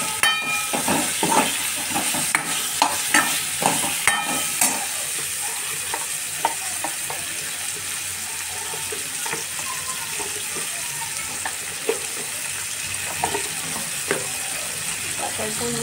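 Drumstick pods frying in a pan with steady sizzling and repeated stirring clatters, loudest early and continuing close and busy throughout.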